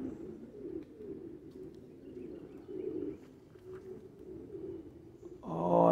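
Racing pigeons coo softly and repeatedly around their loft in low, rolling phrases, with a louder fluttering burst at the end.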